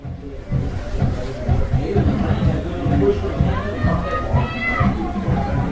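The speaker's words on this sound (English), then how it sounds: "Big crowd here tonight at Victoria Memorial Stadium" A big crowd fills Victoria Memorial Stadium at a night high school football game between Refugio and Ganado, a steady babble of many voices and scattered shouts rolling on throughout.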